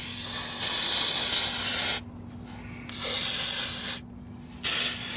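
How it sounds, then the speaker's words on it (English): Carb cleaner is sprayed around the transmission cooler hose area of an 88-97 Nissan D21, loud close hissing aerosol bursts in three long blasts separated by short pauses. "we're gonna get our carb cleaner here and just spray everything"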